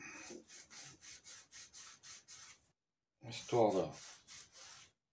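Scraping inside a shock absorber from a 1993 Honda CR 125R, heard as a close run of rhythmic rasping strokes, then a short pause and a second burst, with a brief spoken word in between.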